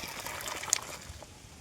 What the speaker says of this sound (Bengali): আমার তো কাঁঠালের এঁচড় সিদ্ধ করা হয়ে গেল, এবারে ঢেলে নিই।